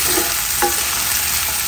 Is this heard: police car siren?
no